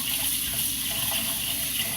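Tap water runs steadily into a sink while rice is rinsed, a continuous close gushing hiss that stays even throughout with no voices.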